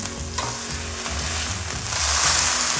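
Pot roast meat browning in a hot pan, a steady close sizzle with stirring and scraping, rising louder and brighter toward the end, no talking.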